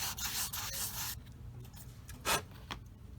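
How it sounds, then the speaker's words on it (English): Quick back-and-forth rasping strokes close by as a sanding stick works plastic model kit parts, then a quieter stretch with a couple of brief scraping sounds. "hit that with the old sanding stick"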